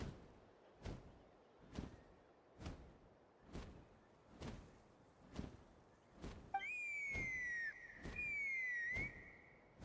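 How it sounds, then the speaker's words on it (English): A whistle call in a video game, heard as a pair of clear, sustained tonal blasts near the end, following a steady run of rhythmic thumping footsteps. "That sounded like a whistle."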